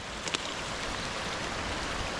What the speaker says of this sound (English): Let's cross this little brook.